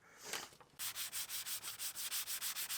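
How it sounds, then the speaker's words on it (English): Brisk back-and-forth rubbing of 400 grit sandpaper on primer over a fiberglass instrument panel, a steady rhythm of about fifteen strokes, close and fairly soft. "we have some 400 grit sandpaper. We will be using this to knock down the highs on the primer"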